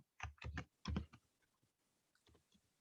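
Typing on a computer keyboard while entering an email address during an online survey training session: a quick cluster of clicky keystrokes up front, then a few faint, scattered taps at moderate distance.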